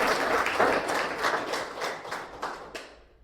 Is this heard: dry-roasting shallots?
no